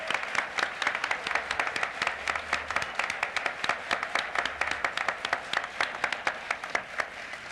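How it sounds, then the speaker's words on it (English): Audience at the 1997 Software Spectrum Awards ceremony applauding, a sustained, crisp patter of many hands clapping at a steady, moderately loud level throughout. "Let's give John Deegan and Scott Freefield a round of applause."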